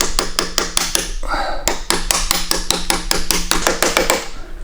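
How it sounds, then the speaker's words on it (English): A slide hammer pulls the original rear main crankshaft seal from an R32 Skyline, striking in a rapid, steady series of sharp metallic knocks, loud and close, with a brief pause partway through. "Some people get salty that we're using a slide hammer on a crank."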